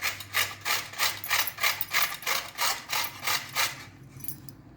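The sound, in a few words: grating carrots on a large-hole grater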